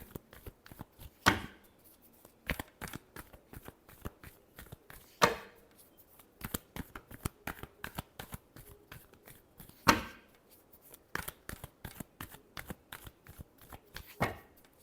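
Tarot cards shuffled by hand in a quiet room, a steady run of crisp riffling snaps and taps with a few louder slaps as the deck is squared, no talking.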